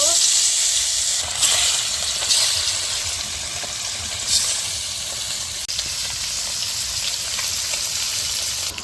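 Katla fish sizzling steadily as it fries in hot mustard oil in a kadai, a dense continuous crackle with a few louder bursts, close and fairly loud throughout.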